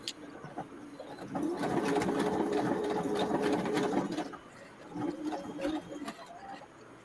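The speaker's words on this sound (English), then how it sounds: "I thought I would go in and sew this little apron this morning" A sewing machine stitching a small apron, a close whirring run of rapid needle strokes that pauses and starts again, with pigeons cooing softly in the background.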